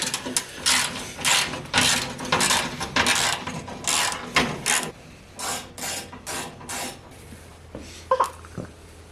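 Ratchet clicking in quick bursts while Torx bolts are backed out of the OEM bumper on a Jeep Wrangler Willys Gladiator, the sharp mechanical ratcheting close up and broken by short pauses.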